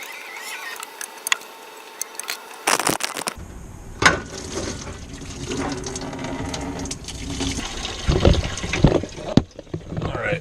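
Fuel drains from a disconnected fuel line on a Mercedes 450SL, a steady close trickle and splash into a container with intermittent gurgles and a few clanks of handling, no talk.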